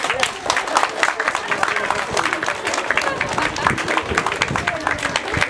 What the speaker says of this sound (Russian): под громкие аплодисменты ей подарили велосипед